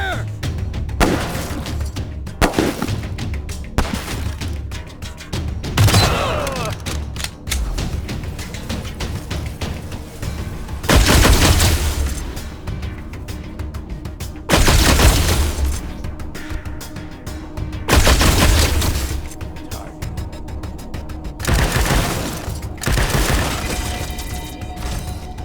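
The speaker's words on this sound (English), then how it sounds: "Suppressing fire!" Gunfire crackles through a turn-based firefight in the post-apocalyptic game Wasteland 3, with repeated bursts, booming impacts and thuds recurring every few seconds over a dense, busy combat soundscape with occasional shouted voices.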